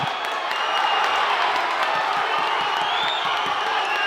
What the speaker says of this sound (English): Crowd showing these guys some love, man.